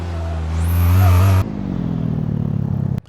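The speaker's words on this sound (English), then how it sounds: "all I hear is boost" A Mazda RX-7's turbocharged rotary engine revs, building with a whining turbo whistle, then cuts off abruptly, leaving a lower rough engine rumble and a sharp click at the end.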